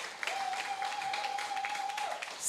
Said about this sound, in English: Let's put our hands together for our 16.